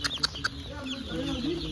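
Chicken chicks on a poultry farm, a few quick high cheeps and clucking chirps in short bursts, close by, with a low murmur underneath.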